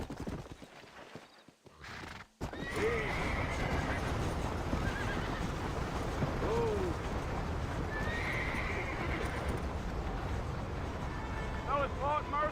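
Horses in the Red Dead Redemption video game neigh and whinny as steady clip-clopping hooves trot along, with wind and a voice speaking over the scene.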